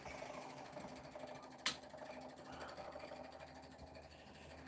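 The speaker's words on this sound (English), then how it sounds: "because of the motor spinning right now" An electric motor spinning on a rotor build, giving a quiet, steady mechanical whir with a fast repetitive ticking pulse and one brief sharp click partway through.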